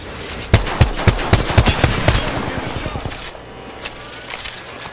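Rapid automatic gunfire in Apex Legends on Xbox, a loud close burst of sharp shots in quick succession, then sparser scattered shots fading out.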